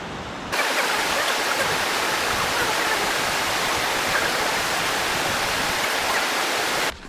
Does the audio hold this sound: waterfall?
yes